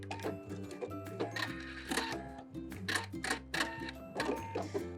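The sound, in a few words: sewing machine back stitching a zipper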